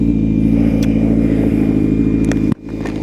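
A motorcycle engine running while being ridden after a long time unused, a loud steady mid-pitched hum that abruptly drops near the end, then picks back up.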